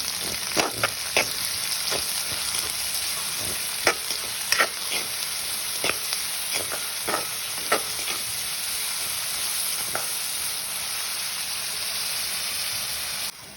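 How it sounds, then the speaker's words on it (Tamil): Onions and crushed garlic sauté in a pan for a potato tomato gravy, making a steady bright sizzle close by, broken by regular scraping strokes of a spatula throughout. "வெங்காயம் வந்து கொஞ்சமாக வதங்கி கொண்டு வந்துட்டு"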